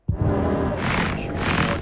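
The Warden mob in Minecraft Bedrock lets out a loud, low, rumbling growl that keeps going, rough and throaty, with a harsher rasping surge toward the end.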